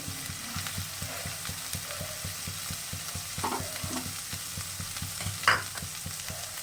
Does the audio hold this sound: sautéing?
yes